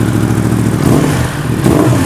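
A Yamaha R1 60th Anniversary sport motorcycle engine running loud and close after starting, a steady low rumble with slight revving swells, no voices.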